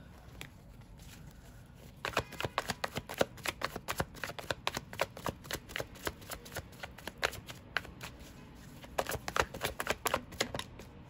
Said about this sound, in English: as I was shuffling after the Two of Swords